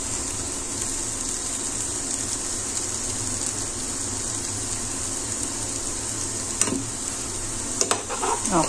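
Pancake cooking in a pan gives a steady, close sizzle throughout, with a few sharper scraping or clattering touches near the end and no talking.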